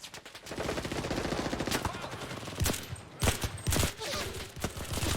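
Automatic gunfire from AI soldiers in the modern-conflict mode of the video game Enlisted: dense, sustained rapid-fire bursts, with several louder, sharper single shots cracking out near the end.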